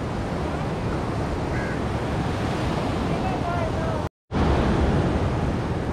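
Sea waves roll onto Kovalam beach in Kerala, a steady surging wash mixed with wind buffeting the microphone, briefly cut to silence near the end before the surf resumes.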